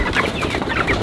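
A flock of chickens on a farm raising young chicks alongside older laying hens, with dense overlapping clucks and squawks that sound close and loud.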